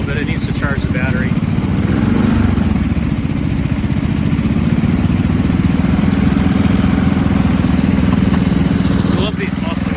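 A Sears Suburban garden tractor engine idles steadily with quiet mufflers, a low continuous rumble running unbroken throughout, with a voice talking briefly over it.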